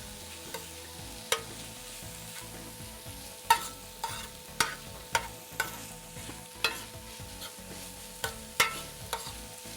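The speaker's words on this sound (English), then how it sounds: "So now we're going to put our chili, spring onion, garlic and butter into the pan. Mix this around a little bit." Chili, spring onion, garlic and butter stir in a frying pan with a soft sizzle beneath repeated sharp utensil scrapes and taps against the pan, spaced irregularly about once a second.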